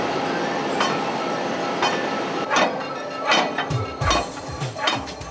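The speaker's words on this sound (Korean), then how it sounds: "이음새 원통을 계속 때리자 나사가 겨우 빠져나온다" Metal hammer blows ring against the joint cylinder of a worn, ten-year-old excavator grapple as its rusted bolt is driven out, a handful of sharp clanks growing louder and more frequent over steady background rumble.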